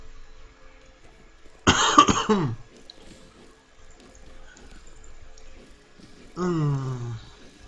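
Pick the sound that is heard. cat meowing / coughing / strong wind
coughing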